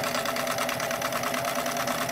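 A sewing machine runs in the video game Zompiercer, giving off a continuous, rapid mechanical whir of stitching that stays steady and close for its whole short length.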